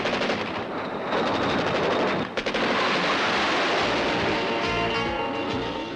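The 20 mm cannon of a GIAT medium tank fires in rapid, continuous bursts, a dense clattering roar with a brief pause midway before the firing resumes, loud and close.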